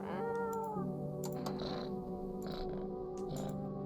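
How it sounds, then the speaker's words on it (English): A cat in a video game meows as it is patted, giving a few short, close meows over a steady bed of game music and soft clicking. "Pat the cat."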